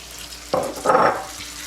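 Red pepper, carrots and water chestnuts, still lightly frozen, tipped into a hot pan for a shrimp stir fry, giving a sudden hiss and then a louder crackling sizzle that swells and fades.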